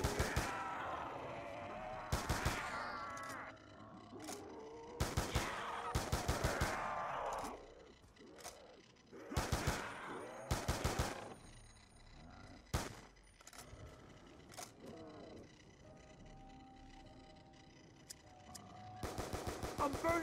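Repeated bursts of automatic gunfire from the zombie mode Mob of the Dead in Call of Duty, loud rapid volleys separated by pauses and trailing off near the end, with occasional game sounds between.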